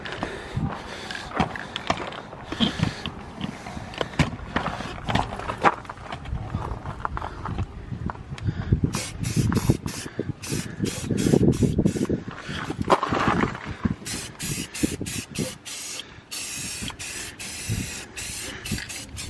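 Spray can touching up a truck frame on a 7.3 Powerstroke Excursion: repeated hissing sprays in short and longer bursts, with rattles and handling noises between them, close by.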